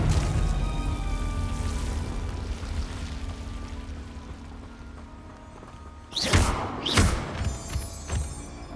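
Confringo blast spell in the Hogwarts video game: a steady rumbling background, then two sharp explosive bursts close together near the end, followed by a softer crackling tail.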